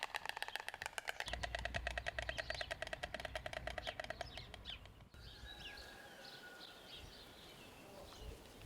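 White storks clattering their bills at a nest in a village, a rapid wooden rattling burst lasting several seconds, followed by quieter bird calls and chirps in the open air.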